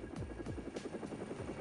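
A police helicopter hovers overhead with a continuous rhythmic rotor chop, fairly soft and steady, with no voices.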